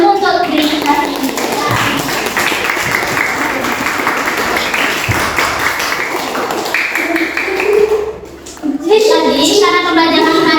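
A classroom of elementary school children claps for themselves at the end of a science lesson, steady loud applause lasting several seconds with children's voices mixed in, then a brief pause before the voices return.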